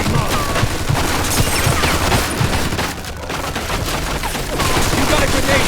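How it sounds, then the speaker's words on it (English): Machine gun fire in the video game Mafia II, loud and continuous, a dense rapid clatter with bursts running throughout, mixed with battle noise and shouting voices. "machine gun! Watch it!"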